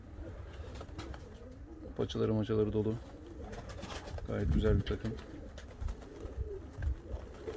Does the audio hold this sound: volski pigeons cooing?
yes